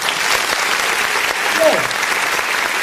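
Crowd applause at a political address about the Edo governor and Trump, a steady wash of clapping filling the whole stretch at moderate loudness, with a voice briefly cutting through near the middle.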